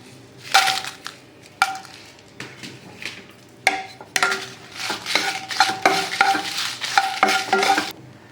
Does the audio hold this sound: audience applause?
no